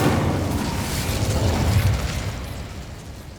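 Incendio fire spell cast in Hogwarts Legacy: a loud burst of roaring flame that surges at once, holds steady, then slowly tapers off.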